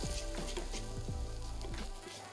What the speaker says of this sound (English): olive oil is in, non-stick pan, high heat, and the mushrooms are going in